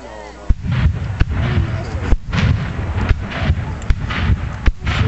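Artillery cannon firing at a Battle of Bentonville reenactment, heard as a series of sharp heavy booms about once a second, each with a short rumbling tail, under a crowd's background chatter and nearby voices.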